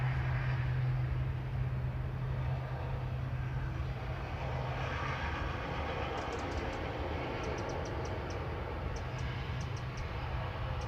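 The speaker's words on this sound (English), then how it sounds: "Very loud prop going past." A loud propeller aircraft passing near Manchester Airport, heard as a broad, steady roar that holds for several seconds with a faint high whine above it.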